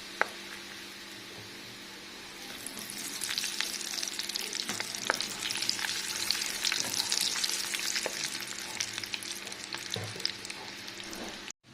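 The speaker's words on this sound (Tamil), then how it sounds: "இதே மாதிரி நீங்கள் இருக்கிற நிலக்கடலை எல்லாம் இது மாதிரி எண்ணெயில் போட்டு எடுத்துக்கலாம்" Raw groundnuts sizzle steadily in hot oil on a stove over medium heat, a dense, continuous crackling fry with occasional louder pops and stirring, close and without talk.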